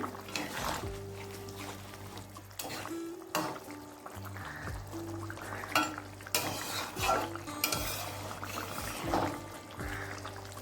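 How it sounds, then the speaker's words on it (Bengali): Fried rohu fish pieces going into a simmering rohu and kohlrabi-potato curry, with irregular clinks of utensils against the pot and soft splashing over a steady low hum, no voices. "যে মাছটা ভেজে রেখেছিলাম সেটা এবার ভেজে রাখা মাছগুলো দিয়ে দিলাম"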